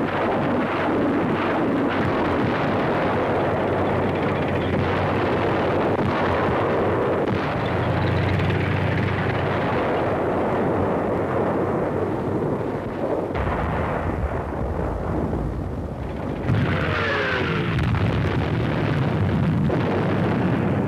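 Explosions and artillery fire from the World War II attack on Iwo Jima form a loud, dense, continuous rumble with a wind-buffeted roar and no talking.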